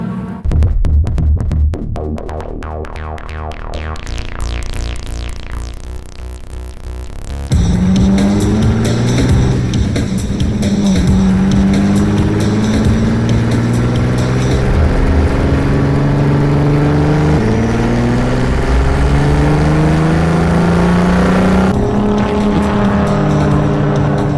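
The Rotsun race car roars around the track at the 24 Hours of LeMons, engine loud and close, revving up and down through gear changes in rising and falling sweeps, with no talk.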